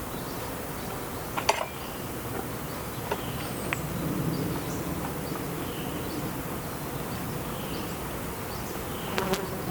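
Dense, steady buzzing of many honey bees around an open beehive during an inspection, close and continuous, with a few faint clicks and knocks from handling the frames.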